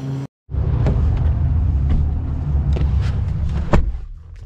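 A 2022 Ford F-150 STX pickup truck on the move, heard as a steady, loud low rumble from inside the cab with a brief thump near the end.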